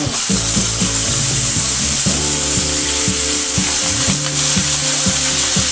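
Steady, loud sizzling of potatoes frying in a hot pan, with occasional stirring scrapes throughout.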